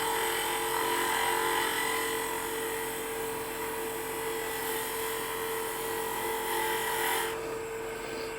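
A wood lathe spins steadily as a turning tool cuts into wood for tea lights, a continuous whirring, rasping drone with a constant motor hum that eases off at the end.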